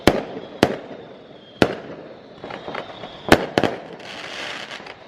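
Fireworks going off on firework night, a series of sharp bangs and cracks at irregular intervals, some close and loud, others fainter, with crackling between the blasts.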